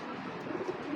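A black checker racing pigeon coos softly in low, throaty pulses, its murmuring calls repeating close by against a steady background hum.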